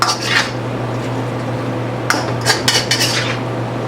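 Dish with peanut sauce, chili, tamarind and spices being tossed: a few close clinks and scrapes of utensils against the dish, with squishy mixing in between, over a steady low hum.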